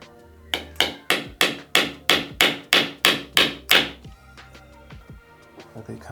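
A hammer drives in mounts at an angle with eleven sharp, evenly spaced blows, loud and close, then stops, leaving faint shuffling and a couple of soft knocks.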